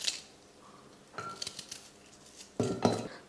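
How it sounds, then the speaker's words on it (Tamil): An onion is cut into small pieces with a knife in a home kitchen. Quiet, scattered knife clacks and clinks come in a few short bursts, with no steady chopping rhythm and no talk. "இப்போ இந்த வெங்காயத்தை சின்ன சின்னதாக இந்த மாதிரி கட் பண்ணி சேர்த்துக்கிறேன்."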